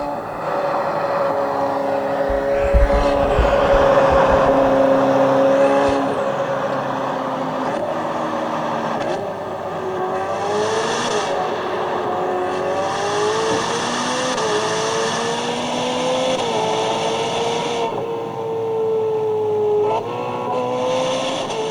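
A car engine fitted with Novatec tuning revs loudly and close by for about twenty seconds, climbing and falling in repeated sweeps with a rasping exhaust note.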